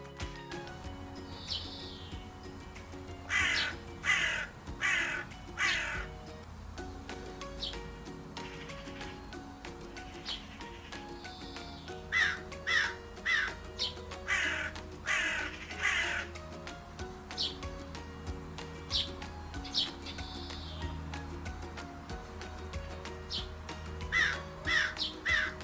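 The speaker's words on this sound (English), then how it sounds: "Crow. C R O W." A crow caws in short clusters of harsh calls, several groups spaced over the span, moderately distant, with no talking.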